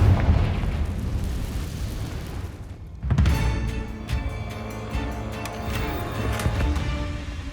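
Confringo fire spell blasts in Hogwarts Legacy, a sudden loud burst midway followed by a sustained crackling, rumbling roar with ringing tones in a game battle, no voices.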